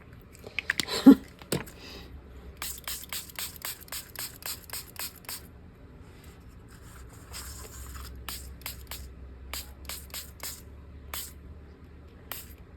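A spray bottle misting paint or ink onto a mixed-media art surface, giving a run of short, regular hissing bursts, close and fairly soft, with a few faint handling sounds around them.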